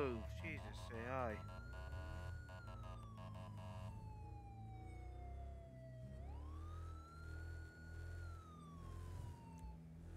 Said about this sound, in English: just cut off our sirens